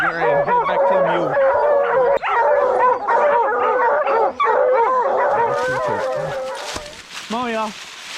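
A pack of bear-hunting hounds in Virginia bay, bark and howl together close by, overlapping voices in a continuous clamor with brief gaps, and a person speaks near the end.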